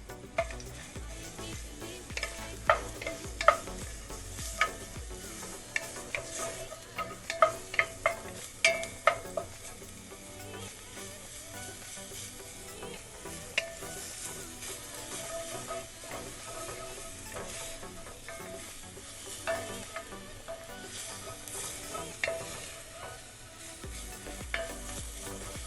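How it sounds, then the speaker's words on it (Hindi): Grated garlic frying and being stirred in one to two tablespoons of oil for black pepper chicken, a steady soft sizzle with scattered scraping taps of a spoon against the pan, fairly quiet and without voices. "हम ऑयल डालेंगे 1 से 2 टेबलस्पून और साथ में डाल देंगे जो हमने ग्रेट किया हुआ लहसुन है वो डाल देंगे और इसे अच्छे से मिलाएंगे"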